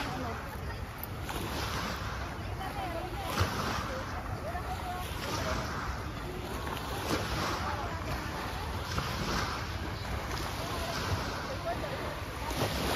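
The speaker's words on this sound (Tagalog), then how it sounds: "Ayan oh, ang dagat ang ganda. Ang dagat na maalat." Sea waves wash onto a beach in a steady, continuous surf with gusty wind noise on the microphone, heard faintly at a distance.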